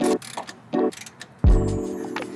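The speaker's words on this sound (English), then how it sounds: "I tried removing the locking nut from the sway bar link with a 16mm socket, but the ball joint shaft kept spinning" A ratchet with a 16mm socket works on the locking nut of a sway bar link on a 2004 BMW E46 330i ZHP: two short bursts of rapid clicking, then a sharp metallic clank with a ringing tail, close and alone.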